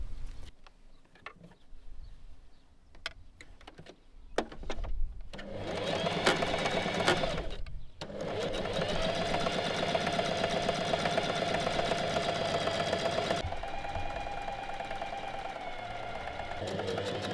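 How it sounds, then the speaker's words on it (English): Sewing machine stitching a 1 cm inseam on wide-leg pants, with quiet fabric handling and a few clicks at first, then a close, steady whirring run that drops in pitch near the end. "Now sew the inseam together with a 1 cm seam allowance."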